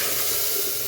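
Ground masala paste tipped into hot oil with fried onion and curry leaves hisses and sizzles steadily for a moment, a close, broadband frying crackle with no voices.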